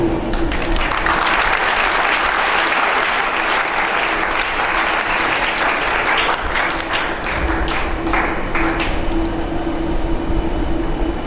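A lecture hall audience claps steadily for the whole stretch, a dense sustained wash of hands with a faint low hum underneath.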